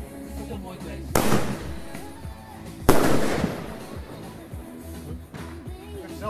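Two loud single-shot thunderking fireworks go off a couple of seconds apart, each a sharp bang with a crackling tail, followed by a fainter pop later, outdoors with people talking in between.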